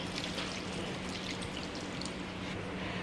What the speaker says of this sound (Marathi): आता आपण त्याच्यामध्ये पाणी घालू गॅसवर शिजण्यासाठी ठेवून देऊया